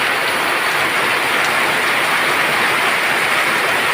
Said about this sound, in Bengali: বৈশাখের বৃষ্টি